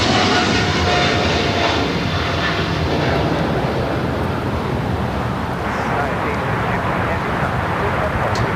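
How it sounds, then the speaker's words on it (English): Brand-new MSC Air Cargo Boeing 777 freighter taking off on runway 25 left at LAX, a loud, close, continuous jet engine roar that fades slightly toward the end, with talk over it. "It's brand new, 777 freighter, just delivered in November of last year."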